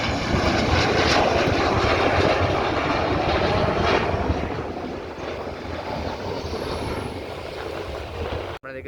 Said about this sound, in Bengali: টাচডাউন করে ফেললো একটি ফাইটার চলে এসেছে